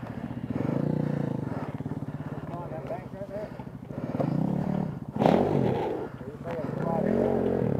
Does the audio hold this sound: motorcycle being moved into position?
yes